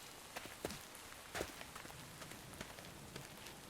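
Rain patters steadily in a Minecraft modpack world, a quiet, even hiss broken by a few sharper taps and clicks.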